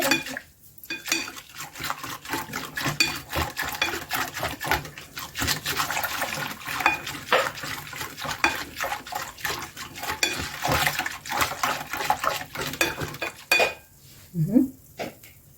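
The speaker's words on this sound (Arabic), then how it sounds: "هبدا ان انا اقلبهم، ادوب السكر" A spoon clinks and scrapes briskly against a glass while sugar is stirred into water, with rapid repeated tinkling and splashing close up, followed by a short pause.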